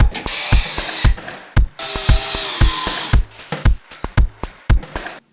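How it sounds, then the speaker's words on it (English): A power drill drives into a bent, tape-covered metal bracket, cutting in with repeated short bursts and brief pauses, close and fairly loud, with sharp clicks between runs. "cover it in tape to protect from scratches, and then drill it in place"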